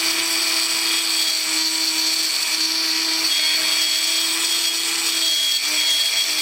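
A Jeep Cherokee XJ battery cable end being shaved down with a power tool, a steady high-pitched whine that runs unbroken and fairly loud from start to finish, with no voices.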